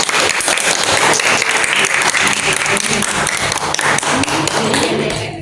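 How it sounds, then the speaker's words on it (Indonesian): Classroom applause for a student group, dense close clapping with some desk taps and thumps, loud and sustained for the whole stretch before tapering at the end. "beri tepuk tangan dulu untuk kelompok 1."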